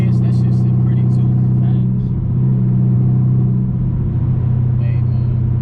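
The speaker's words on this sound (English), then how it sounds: "I just wish I could hear the whine a little bit more loud" A Chevrolet Camaro ZL1 1LE runs with its supercharged engine, a loud, deep, steady rumble and drone heard from inside the car, with people talking over it throughout.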